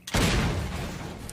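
A single loud gunshot from the video game Half-Life 2 booms out, then its reverberant tail fades over about a second. No voices are heard.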